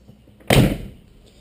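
A 1960s Studebaker door, a supercharged 289 car, swings shut with one solid, close thud and a short ringing decay, then quiet.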